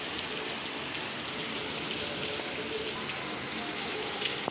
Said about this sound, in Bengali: প্রচুর জোরে বৃষ্টি নেমেছে আমাদের এখানে।